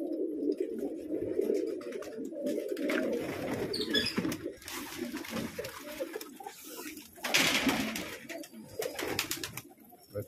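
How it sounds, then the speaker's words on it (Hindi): A flock of pigeons coos continuously while bathing, with overlapping low, rolling calls close by, broken by occasional splashes and wing flutters. "अब नहाने लगे कबूतर"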